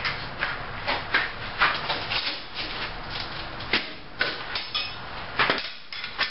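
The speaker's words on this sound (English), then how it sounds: "So, now I'm just gonna cut that off with a parting tool." A lathe parting tool cuts off a turned lamp piece, giving a steady rough scraping and cutting noise broken by repeated knocks and clatters, close and fairly loud, with no talking.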